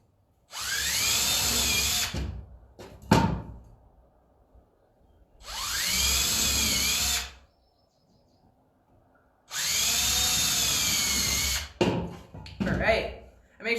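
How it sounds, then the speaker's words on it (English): A power drill bores all the way through a wooden board for a hanging planter in three loud, whining bursts of about two seconds each, with clunks and scraping between runs. "you're drilling all the way through your wood"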